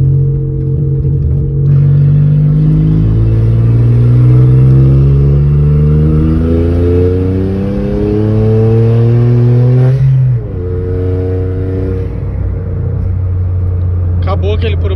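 A turbocharged Volkswagen Up Stage 3 engine revs loudly and steadily, its pitch climbing and dropping in repeated sweeps before settling into a lower rumble near the end.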